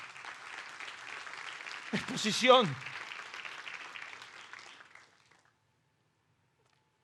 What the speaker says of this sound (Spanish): No merece un aplauso semejante